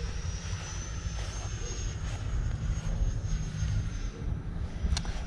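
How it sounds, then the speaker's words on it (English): A model airplane makes a high-speed pass, its fast electric motor a high, steady whine over a rushing broadband roar that swells and shifts as it crosses close by, with no talking. "Let's get some high-speed passes right in front of us."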